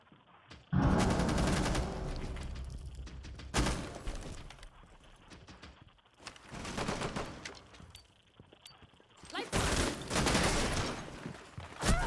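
Gunfire in Rainbow Six Siege comes as loud, close bursts of rapid shots, several separate volleys broken by brief quiet gaps, with sharp cracks and shattering impacts.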